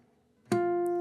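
A single fingerstyle guitar harmonic is plucked after a brief near-silence, giving a sharp bright attack and then a pure, bell-like tone that rings steadily and close.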